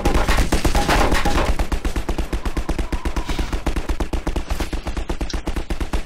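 Turret gunfire in Half-Life 2, a loud, rapid automatic burst of evenly spaced shots hammering on for several seconds, the rate steady and close.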